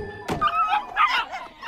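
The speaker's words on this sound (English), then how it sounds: "What are we gonna do with all of these puppies?" Puppies yipping and barking in a short, lively burst: a sharp thump, then several high yaps and whimpery barks close by, with no talk over them.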